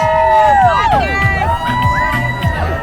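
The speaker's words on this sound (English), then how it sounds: "Well, you got the cheer." A roadside crowd cheers runners at the BMO Marathon in Vancouver, between Kitsilano Beach and downtown, with loud, close whoops and rising shouts from several voices over a babble of people.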